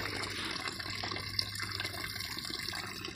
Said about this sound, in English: and my waterfall